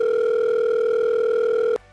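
A telephone dial tone from a phone-a-friend lifeline in a KBC-style gaming quiz: a steady, loud two-note electronic hum held alone for nearly two seconds before cutting off abruptly.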